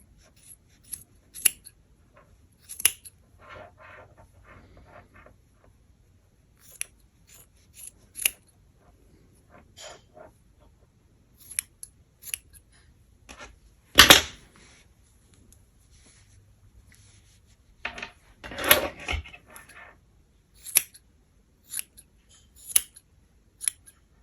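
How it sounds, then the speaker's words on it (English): Scissors trim yarn ends repeatedly at close range, short sharp snips spaced irregularly with quiet rustling between, and two louder snips near the middle. "This is not the best scissors for this."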